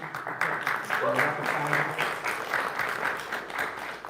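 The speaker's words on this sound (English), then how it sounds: "So big round of applause for Ken." Applause from an audience at an Ethereum event honours a speaker named Ken, a moderate, continuous patter of many hands with a voice talking over it partway through.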